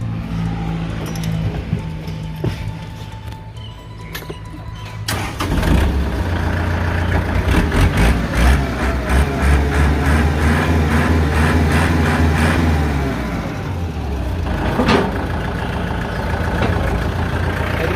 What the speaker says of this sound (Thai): เดี๋ยวเราลองสตาร์ทเครื่องยนต์ดูนะครับ